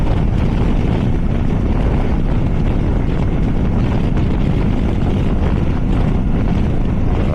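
A Triumph Tiger 800 motorcycle cruises at about 110 km/h, its steady engine roar buried in heavy, continuous wind rush across the microphone, loud and unbroken.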